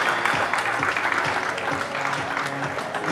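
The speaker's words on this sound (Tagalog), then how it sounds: "Palakpak." An audience at a corporate launch event gives steady applause as a guest is called up, a continuous patter of many hands at moderate distance.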